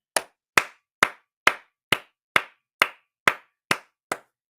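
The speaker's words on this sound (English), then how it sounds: "Clapping" Ten crisp, isolated hand claps at a steady, even pace, close and sharp, each one ringing out alone against silence.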